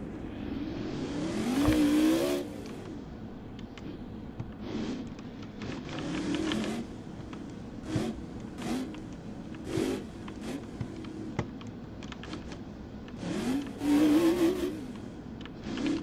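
Monster truck engine in a Roblox Monster Jam freestyle, revving hard in two loud rising bursts at the start and end, with lower throttle blips and mechanical clatter in between and no talking.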